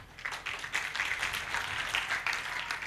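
Sparse audience at a Hindi comedy poetry stage show claps, a thin, uneven patter of a few hands that continues steadily without building up.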